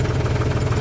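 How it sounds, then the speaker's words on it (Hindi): A tractor engine idles steadily at about 600–650 RPM, a loud, close, continuous low rumble with an even throb and no talk over it. "अब इसकी आवाज़ सुनते हैं ट्रैक्टर की, नॉर्मल RPM 600 मिलेंगे, 650 के आसपास"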